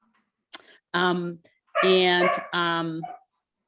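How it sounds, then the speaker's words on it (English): A pet dog at a home in Western Massachusetts lets out a short yip followed by three loud, drawn-out barks or whining yelps, close by in an otherwise quiet room. "my dog is barking"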